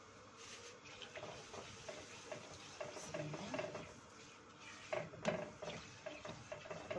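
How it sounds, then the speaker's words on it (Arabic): A utensil stirs turmeric through hot oil in a pot, making faint, soft scraping and light clinks against the metal in an irregular rhythm, with low kitchen background noise. "ونقلب الكركم بقى شويه كده في الزيت بتاعنا"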